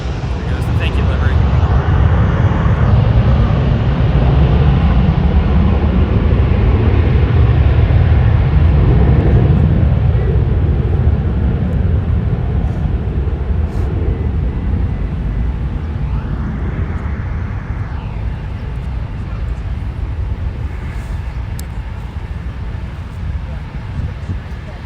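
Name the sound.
Delta Airlines Airbus A321 jet aircraft passing at LAX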